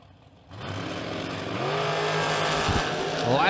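Dragster engines at the start line of a drag race, a loud sustained roar that starts abruptly and builds into a rising, revving drone with a brief higher whine near the end.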